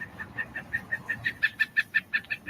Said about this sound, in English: I've never heard that goofy woodpecker laugh like that before.